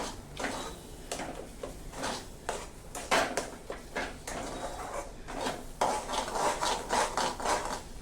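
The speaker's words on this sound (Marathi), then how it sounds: "हे असं छान हलवून घेऊया याचा जोपर्यंत घट्टसर पेढ्यासारखा गोळा होत नाही तोपर्यंत हलवून घेऊया" Paneer malai modak filling being stirred in a pan until it thickens, with repeated scraping and rubbing strokes and occasional utensil knocks, close and moderately loud.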